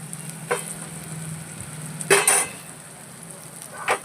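Garlic and onion fry in a pan with salt, ginger and turmeric, a soft steady sizzle broken by a few scraping stirs of a spoon against the pan, close up.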